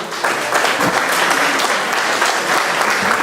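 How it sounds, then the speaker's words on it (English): An audience at a Veterans Day celebration applauds steadily, close and loud, the clapping continuous for a few seconds. "Let's give them a round of applause."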